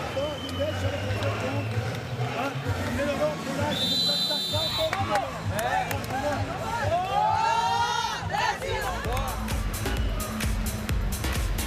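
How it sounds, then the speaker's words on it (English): Spectators at a women's sitting volleyball bronze medal match between Canada and Brazil in Paris keep up a loud, continuous roar of cheering, chanting voices and whistles that fills the whole arena. "Well, the crowd enjoying themselves here."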